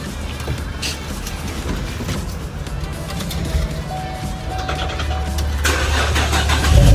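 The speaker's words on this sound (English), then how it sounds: "So I'm gonna start the car and get it on the exhaust." Manual Chevrolet Camaro engine cranking and catching, then settling into a rough, steady idle that grows slightly louder near the end.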